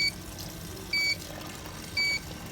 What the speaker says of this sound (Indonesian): jika di bawah 2 liter, maka akan ada buzzer yang nyala